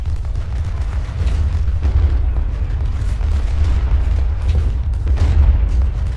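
Cannon fire in the Civil War strategy video game Ultimate General: Civil War rolls as a steady, deep, rumbling low boom throughout, distant-sounding and continuous rather than as separate crisp shots, with no talk.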